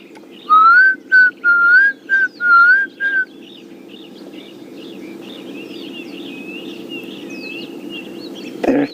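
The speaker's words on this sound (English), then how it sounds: "And that is a Klaas's cuckoo, which has come back from its migration" A Klaas's cuckoo gives a clear, repeated whistled call, several rising phrases in quick succession, then fainter chirps over a steady background hum, on an African safari drive.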